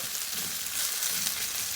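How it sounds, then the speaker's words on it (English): Food sizzles and crackles steadily in a hot pan on a wood-fired stove, a soft continuous frying hiss with no voices. "So at the moment it's busy frying."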